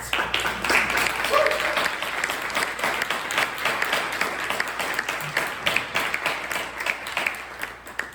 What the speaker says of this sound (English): round of applause for the artists